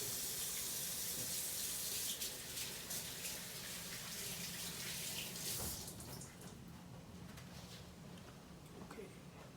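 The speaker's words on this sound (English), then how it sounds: "I'm gonna wash my hands real quick" A kitchen tap runs steadily while someone washes their hands, a close hissing stream that shifts in tone partway through as the hands move under the water.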